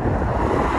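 Strong gusting wind battering the microphone outdoors near a golf course in Leeds, England, under heavy cloud, a loud continuous roar without any voices.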